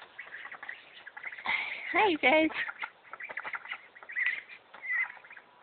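Ducks in a backyard pen give a few close, harsh quacking calls in the middle, while a person talks over them throughout.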